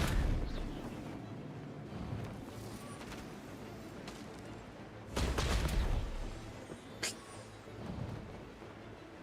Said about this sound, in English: Einfach Bombardement hier.